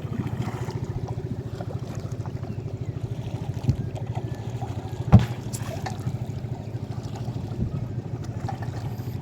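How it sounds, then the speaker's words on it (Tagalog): A motorboat engine putters steadily out on the sea, a low continuous throb with a few brief knocks and splashes, alone and fairly close. "Yan ang mga motor dito, mga motor sa dagat."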